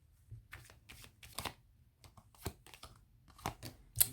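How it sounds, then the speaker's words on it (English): Tarot cards are flipped over one by one on a table, giving faint, crisp papery snaps and slides at irregular intervals, close and quiet, with no talking. "The Tower card flipped out."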